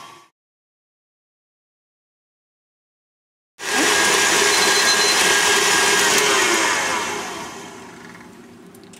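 Flour, sugar and salt for a no-roll pie crust being whisked together: after several seconds of silence, a loud, steady whirring rush starts abruptly, holds for about four seconds, then gradually tapers off.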